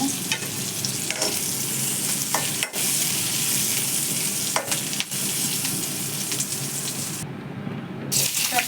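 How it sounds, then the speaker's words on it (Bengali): Onions and chili frying in a pan make a loud, continuous sizzle up close, broken by several sharp stirring scrapes and a short quiet gap near the end. "পেঁয়াজের সাথে দিয়ে দিলাম মরিচটা আমি পেঁয়াজের সাথে ভেজে নেব"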